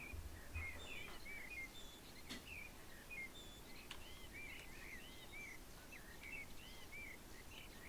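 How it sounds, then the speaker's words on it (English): Birds singing loudly in London in a Train Simulator game, several chirping calls and short warbled phrases repeating throughout over a steady background hiss, with no talk. "The birds are very loud in London."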